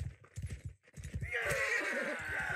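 Horse hooves clip-clopping at a gallop in the medieval combat game Mount & Blade II Bannerlord, a steady rhythmic drumming that gives way to clattering, ringing battle noise and a horse's whinny.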